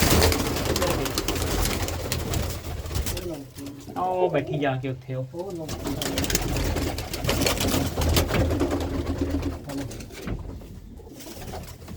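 Pigeons coo softly in low, throaty bursts while people talk nearby over steady outdoor background noise.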